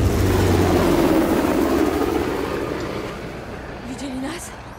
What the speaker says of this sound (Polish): Skąd Asaf ma śmigłowiec?